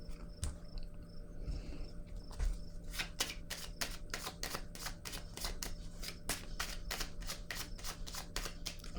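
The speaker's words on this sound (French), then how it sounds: "Je vais déposer une carte sur le jeu." Tarot cards are shuffled and laid out, a brisk run of crisp riffling snaps that follows a few softer taps, steady and close, with no talking.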